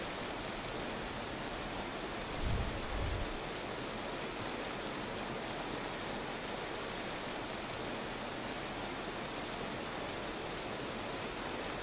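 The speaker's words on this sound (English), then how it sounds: "this definitely feels like a hailstorm, I think, in the game" Steady heavy hailstorm rain in the survival game Vintage Story, a dense, continuous hiss of pelting precipitation with one brief low thump near the start, no talking.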